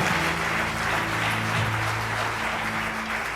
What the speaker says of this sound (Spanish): Oh, denle un aplauso.